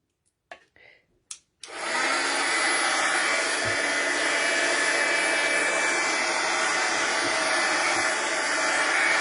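A heat gun blasts hot air over embossing powder, switching on after a few soft clicks and holding a steady, loud, broadband whoosh alone for the rest of the stretch.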